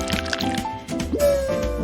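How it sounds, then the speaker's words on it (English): Cake batter poured into a miniature foil-bottomed doll cake pan gives a soft, continuous wet flow with light squishy drips, close up under steady background music. "Now we can pour the batter."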